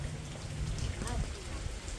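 Rain falls steadily in a dense, even patter on surfaces around a farm plot, close and continuous for the whole moment, with a faint murmur of voices beneath.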